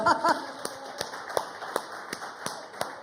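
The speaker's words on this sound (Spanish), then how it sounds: "Le damos un aplauso al Señor" A church congregation claps in a rhythmic, evenly spaced beat, moderately loud, with a voice briefly heard at the start.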